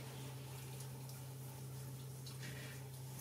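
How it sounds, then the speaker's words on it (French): Tap water runs steadily while a face is rinsed after skincare, a constant soft splashing under a low hum, fairly quiet and without talk. "Et je vais rincer."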